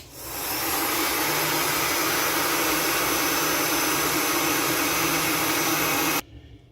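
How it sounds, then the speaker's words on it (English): A compressed air gun blasts a Craftsman leaf blower's air filter dry, a loud, close, continuous hissing rush that builds quickly, holds steady for about six seconds and then cuts off abruptly. "I'm gonna use air gun."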